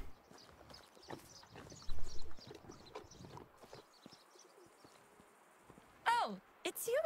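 Horses clip-clop in the video game Medieval Dynasty, with soft, scattered hoof taps under faint ambient buzzing, followed near the end by a couple of sharp, rising whistle-like calls.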